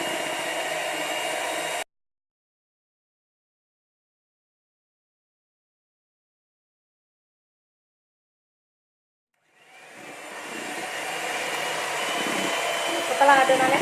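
An electric mixer beating butter and powdered sugar for a tape cake batter, a steady whirring drone that cuts out abruptly, leaves a long silence, then starts again and builds back to full speed, with no talking.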